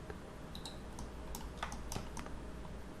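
Keys clack on a computer keyboard, including a spacebar press, as a handful of crisp, close clicks spread over a few seconds above a low steady hum, with no talking.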